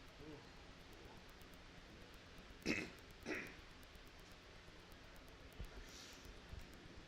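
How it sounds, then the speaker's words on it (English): Two short coughs sound in quick succession, faint and somewhat distant, followed by a softer throat noise against a quiet hiss, during a live high school football broadcast. "Could you guys hear me coughing back there?"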